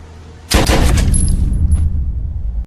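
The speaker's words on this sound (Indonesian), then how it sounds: "Akibat dari suara tembakan tersebut, semua penjaga termasuk polisi berhamburan menuju sel Rizzo" A sudden loud gunshot bursts out, followed by a long, booming, rumbling echo that slowly fades, with no voices.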